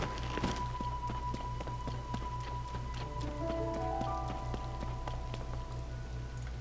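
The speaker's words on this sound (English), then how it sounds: "It's raining." Rain falls steadily in the Zelda: Tears of the Kingdom video game, with a constant patter of drops on surfaces under a low hum and faint game tones.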